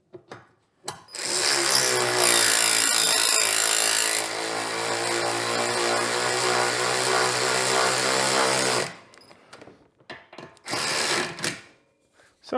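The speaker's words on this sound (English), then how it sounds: "Get our auto screw bolt starter. Get it going the right way." Power tool with an auto screw bolt starter driving bolts into a Yamaha Big Bear ATV, a loud continuous whirring run of about eight seconds followed by shorter bursts, with no voices.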